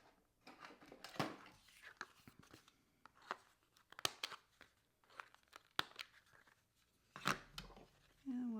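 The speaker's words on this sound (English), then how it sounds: "So I'm going to trim the corners again." Quiet, intermittent crisp snips and crunchy cuts as a blade cutter trims the corners of junk journal paper, each short cut separated by pauses, close up.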